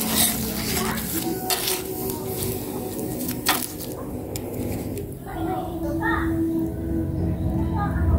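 Food being flipped in a sizzling frying pan, with utensil scrapes and clinks against the pan over steady frying and a speaking voice.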